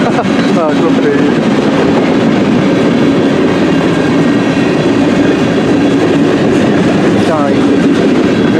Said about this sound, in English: CN M384 northbound train, I can tell